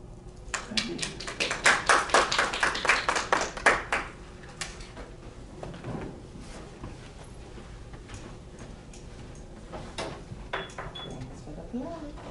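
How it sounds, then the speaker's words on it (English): A small audience claps after a speech in a short burst of rhythmic hand claps that quickly fade to scattered taps, with a voice speaking briefly afterward. "Thanks for the applause."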